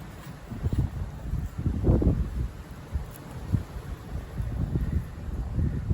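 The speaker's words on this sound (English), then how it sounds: "It's a little windy here" Outdoor wind buffets the microphone in low, rumbling gusts that rise and fall continuously, with faint rustling underneath; no talking.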